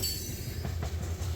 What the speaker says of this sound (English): rail fans wanted a chance to see a unit grain train pass on the line